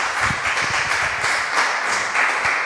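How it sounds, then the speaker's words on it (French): A church congregation applauds in a dense, continuous wash of many hands clapping, filling a hall evenly at moderate loudness with no clear pauses. "Let's put our hands together for the Lord Jesus Christ."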